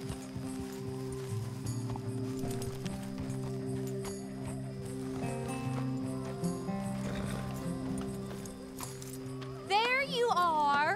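Hooves clip-clop from a horse in the video game Red Dead Redemption 2, steady under game music, with a whinny near the end.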